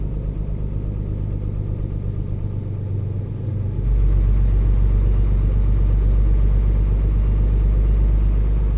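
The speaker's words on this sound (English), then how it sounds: "So let me know what you think about this engine and sound mod pack." Truck engine from a sound mod in the driving game Euro Truck Simulator 2, a steady deep idle rumble that swells into a louder, heavier drone partway through, with no talking.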